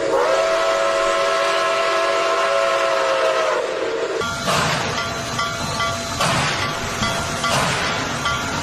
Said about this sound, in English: You wanna know what my favorite Steam Engine video is?